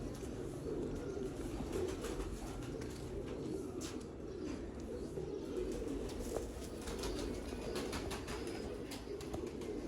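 Teddy pigeons of a rare breed give soft, low cooing calls that carry steadily through the whole stretch, with faint chirps over a continuous background hum and no talking.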